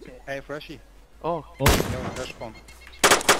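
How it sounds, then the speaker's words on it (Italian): Gunfire in the video game DayZ, a few sharp loud shots bursting out after a man's short exclamations, the last pair close together and punchy. "L'ho visto, gli sparo, eh."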